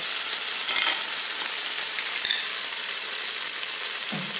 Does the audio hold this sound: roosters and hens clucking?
no